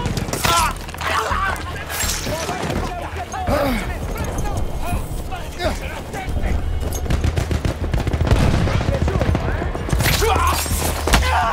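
Battlefield 1 gunfire in a World War I campaign mission on the Italian front, with loud, close bursts of rapid shots, scattered single cracks and distant combat. Someone talks over parts of it.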